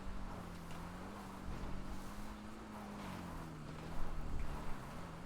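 A stealth motorcycle in Grand Theft Auto V runs with a low, steady engine hum that rises and falls slightly in pitch, quiet under wind noise.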